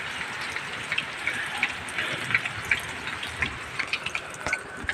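Steady rain falls on a roof at a home construction site, a broad wash of patter with scattered sharper drops striking nearby, no voices.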